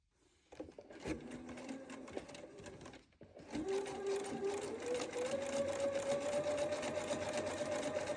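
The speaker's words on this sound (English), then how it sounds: "we're gonna sew down this very side seam" A sewing machine stitches down the side seam of a fabric bag, its needle motor starting in a short burst, pausing briefly, then running steadily and rising slightly in pitch, close and fairly quiet.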